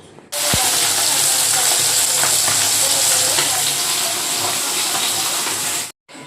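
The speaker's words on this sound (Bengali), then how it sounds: "মাছগুলো ভেজে নিই আগে, অল্প অল্প তেলেই ভাজবো" Fish frying in a small amount of oil in a pan, with a steady, close hissing sizzle that starts abruptly and runs unbroken for several seconds before cutting off.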